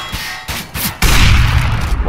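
Gunfire in a first-person shooter video game, shots fired through a wall: a burst of sharp reports, then a loud sustained barrage from about one second on, close and dense, with brief voice sounds among the shots.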